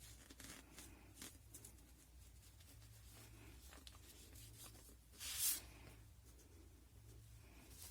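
A pen scratches soft fabric while marking it for a newborn cloth diaper, giving faint, dry strokes and light rubbing in a quiet room, with one brief louder scrape.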